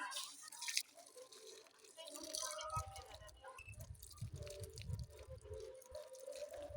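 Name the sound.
water being poured on a newly planted parijatham plant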